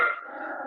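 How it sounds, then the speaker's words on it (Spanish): A dog gives a single short, muffled bark that trails into a brief growl, heard faintly with no talk over it. "El perro no está de acuerdo con lo que estamos hablando."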